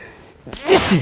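A single sharp human sneeze bursts out suddenly after a brief quiet moment, loud and close, cutting into a news-style broadcast setting.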